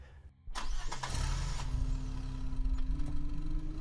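A car engine starts abruptly after a brief quiet moment, then settles into a steady, close mid-pitched idle and rumble that continues to the end.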